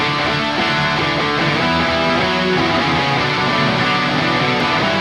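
Dense, distorted pop punk electric guitar riff, steady and loud throughout with driving rhythm and no talking.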